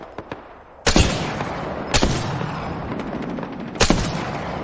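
Three loud gunshot bursts in the battle royale game Apex Legends ring out about a second apart, each a sharp crack with a decaying tail over a steady background of distant gunfire and game ambience.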